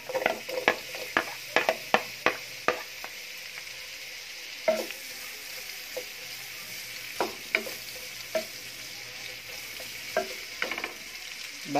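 Onion sautéing in a pan for buttered shrimp: a steady, close sizzle broken by repeated sharp spatula scrapes and clicks against the pan, with no talking.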